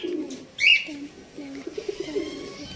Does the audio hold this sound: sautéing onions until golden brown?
no